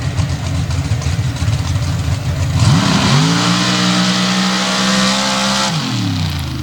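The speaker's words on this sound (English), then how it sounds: "Putting that big VZ engine to work here with Showtime" A modified drag racing car with a big VZ engine idles with a low, rough rumble, then roars as it accelerates hard, the revs climbing steeply and holding loud before dropping away.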